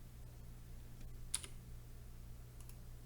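A couple of faint computer keyboard key presses for a Blender shortcut, heard as sharp isolated clicks over a steady low electrical hum.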